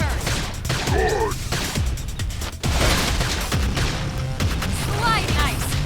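An explosion in the Wii U game Xenoblade Chronicles X bursts amid dense battle noise, with repeated booming, gunfire-like impacts and a short pause before the loud combat sound resumes.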